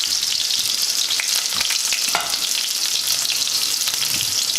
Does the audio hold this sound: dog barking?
no